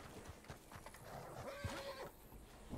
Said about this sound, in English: Oh! Horse!